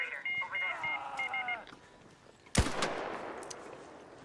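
A single sharp gunshot bursts out loud after a stretch of electronic beeping tones, followed by a decaying rumble, during a squad firefight in the video game Arc Raiders.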